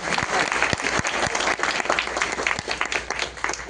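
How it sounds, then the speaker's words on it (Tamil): An audience at a speech event bursts into dense, loud applause, many hands clapping together in a sustained wash of sound with faint crowd murmur. "அகத்தியர் கலைமன்றத்துக்கு ஒரு கைத்தட்டு"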